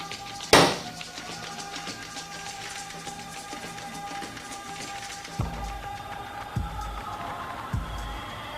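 A hammer strikes a dented car body panel during hand bodywork: one sharp, ringing blow near the start, then three duller, evenly spaced knocks later, with no talk.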